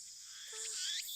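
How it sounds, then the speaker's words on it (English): Cicadas chirp in a Steins;Gate video game scene as a dense, steady high buzz that swells slightly and holds, with a brief warbling call near the middle and no talk. "The only sound is the chirping of cicadas."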